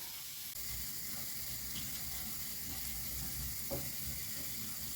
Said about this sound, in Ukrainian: Добавляю морковку, цибулю, все разом. Обсмажую на середньому вогні приблизно 2-3 хвилинки до м'якості.